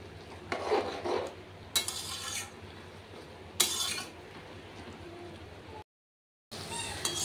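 Bottle gourd leaves are stirred into a pan of lau shak posto, soft sizzling punctuated by a few scraping spoon strokes and clinks, with a brief silent gap near the end.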